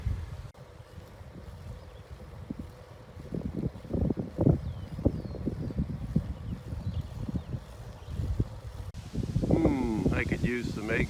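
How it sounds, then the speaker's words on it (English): Wind gusts through pine trees, a rushing, rumbling noise that rises and falls with gusts and buffets the microphone. A voice briefly comes in near the end. "there was a good gust of wind through these pines"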